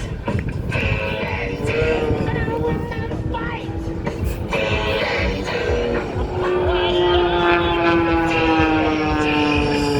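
Loud propeller drone of an aerobatic airplane flying backwards at an Atlantic City airshow, a sustained engine tone sliding slowly lower while a voice talks over it.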